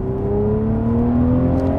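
A V12 car accelerates hard in second gear with a straight-pipe exhaust, its engine note rising steadily, loud and close, with no talking over it.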